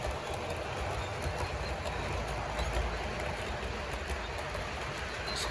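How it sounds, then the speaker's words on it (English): A Bachmann model locomotive rolls along the track with a faint, steady rattling rumble and light rhythmic clicking, continuous and close for several seconds with no voices. "Let me just pass this locos by a minute."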